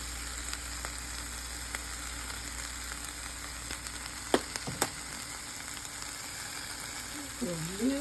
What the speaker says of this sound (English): Put a little bit of that roasted garlic in it because it has salt and pepper in it.